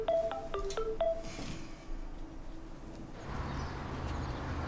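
Telephone keypad tones beep in quick succession as a number is dialed, several short clear pitched tones, followed by a steady low hum and background noise.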